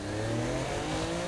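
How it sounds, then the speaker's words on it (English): Sports car in Saints Row the Third driven fast, its engine droning steadily with rising revving tones and faint tire noise, loud and continuous with no voices. "as you can see, driving is fast, fluid, and fun"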